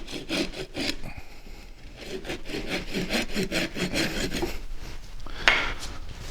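A hand saw cuts off a lower branch of a Boulevard cypress in quick, rhythmic back-and-forth rasping strokes, close and fairly loud, with no talking.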